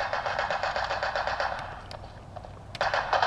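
Rapid automatic gunfire in a Resistance: Burning Skies deathmatch, a loud continuous burst followed by a few scattered shots.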